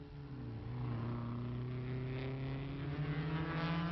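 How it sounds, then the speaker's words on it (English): Late-1950s Formula One cars, including Lancia-Ferraris, race at the German Grand Prix on the Nürburgring, their engines a steady high-pitched drone with rising and falling pitch, loud and sustained throughout. "And at the carousel, the Lancia Ferraris run first and second, right in there, Fangio third, Beira fourth"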